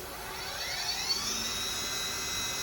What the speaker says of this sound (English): I am gonna start the main spindle motor